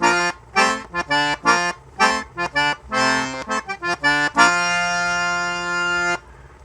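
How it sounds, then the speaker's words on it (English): Cajun accordion with dry tuning played on three reed rows, a lively run of short chordal notes ending in one long held chord, close and clear with no voices. "So the dry sound is like this."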